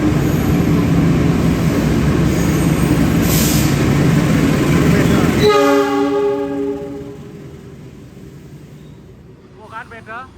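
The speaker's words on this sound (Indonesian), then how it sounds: "ini dia kereta api komuter lain Supas masuk stasiun Surabaya Gubeng" Supas commuter train rolling into Surabaya Gubeng station, a loud steady rumble of railcars followed by a long tonal horn as the noise fades, with a voice talking near the end.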